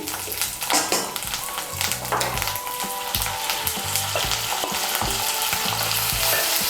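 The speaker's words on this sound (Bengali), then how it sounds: "টমেটো বাটাটাকে মিশিয়ে নিয়ে একটু ভেজে নিয়েছি" Tomato paste frying in a pan with ginger paste for a Shahi Katla kalia fish curry, a continuous loud sizzle with rhythmic scraping thuds of a spatula stirring, close and without talk.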